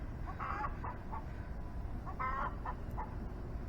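Farmyard turkey gobbling in two short bursts, moderately near, over a steady low background rumble with no talk.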